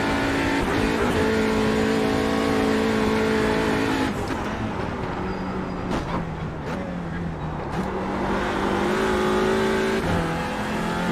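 A TCR touring race car lapping the VLN circuit in daytime, its engine droning loud and steady with shifting pitch as it accelerates, with brief gear-change dips and strong onboard roar throughout.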